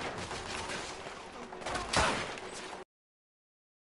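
Gunfire from the video game The Order: 1886, a dense, rapid fusillade of close shots with a sharp burst near the middle before cutting off.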